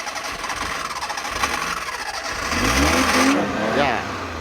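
Engine of a 1995 Maruti 800 with a freshly worked-on carburetor: a steady low churn of cranking, then it catches with a rising whine and squeal near the end, nearby and moderately loud.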